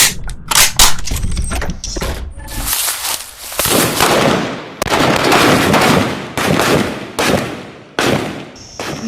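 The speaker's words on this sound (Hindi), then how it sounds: "असली गोलियां चला रहे हैं।" Live gunfire at an Indian Army small arms firing range near the India-Pakistan border: loud, sharp shots in irregular bursts and rapid strings, close by, with echoing tails between volleys.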